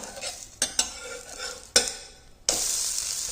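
A wheat-flour breakfast cake sizzles in a pan over medium gas as it is turned with a spatula, several sharp scrapes and clacks cutting through a steady close frying hiss.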